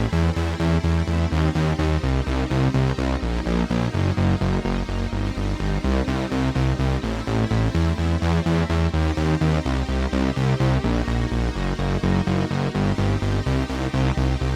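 A bassline steps between the root, third and fifth of each chord under a dark, full backing track, steady rhythmic notes running continuously at a strong level without any voices.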